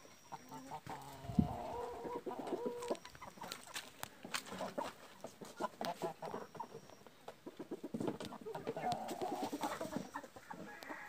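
Frizzle breed pullet, about four months old, clucking in a farmyard with other chickens and roosters, repeated soft clucks and calls over steady background bird chatter.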